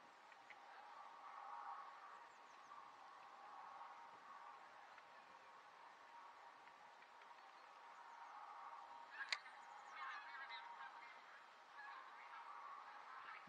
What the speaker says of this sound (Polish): Wracają gęsi.